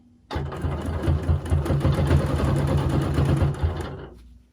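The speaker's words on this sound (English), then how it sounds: "I'm going to stitch in place just a smidgen." A home sewing machine free-motion quilting, stitching along a ruler on a pillow top: one steady, loud, fast whirring run of stitching that starts abruptly, holds for about four seconds and then winds down, with no talk.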